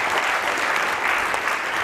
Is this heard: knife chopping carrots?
no